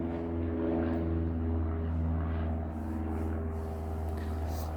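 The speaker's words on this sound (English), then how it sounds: "Another plane." A steady propeller airplane drones overhead, a low continuous engine hum that holds level for several seconds.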